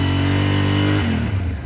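A 650 motorcycle engine held at a steady rev of about 5000 RPM gives a loud, sustained drone that drops in pitch near the end as the throttle is released.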